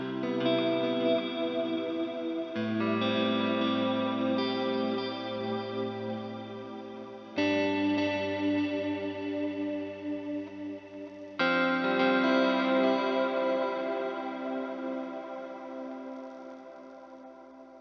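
An electric guitar rings through reverb without shimmer, strumming sustained chords in three long phrases, each freshly struck and left to decay, alone and fairly loud.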